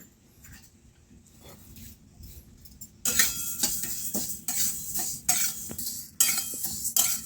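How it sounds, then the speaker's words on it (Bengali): Mung dal dry-roasting in a wok over a wood-fired stove: after a quiet start, a loud, steady dry rattle and scraping of lentils against the pan begins partway through, with sharp spatula ticks and knocks, no talking. "মুগ ডালটা আমি একটু ভেজে নেব।"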